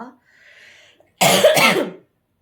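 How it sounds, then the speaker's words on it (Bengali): A single close, loud fit of coughing, two harsh bursts run together, follows a faint hum and a moment of quiet. "যেই কথা বলতে বসলাম অমনি কাশি হচ্ছে"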